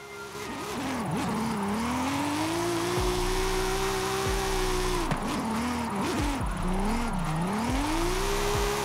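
A 1000+ hp Audi RS6 Avant in Forza Horizon 5 drives with a loud, steady engine drone that swoops up and down through revs and gear changes, dipping and climbing again, with no voices over it.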